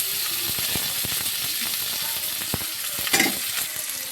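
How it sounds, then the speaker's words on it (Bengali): Tomatoes sizzle in hot oil with ginger for a koi fish curry. The frying hiss is steady and close, broken by a few clicks and a short scrape of stirring. "এই যে আমি টমেটোটা দিয়েছি"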